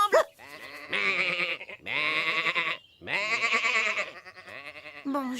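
Cartoon sheep bleat in three long wavering calls separated by short pauses, loud and close, with a brief squeaky sound at the start and end.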